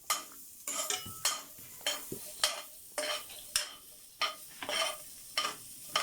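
Chopped onion sautéed in a little oil in a pan, with a soft sizzle beneath repeated, rhythmic scrapes and clinks of a utensil stirring against the cookware, roughly one stroke every half second.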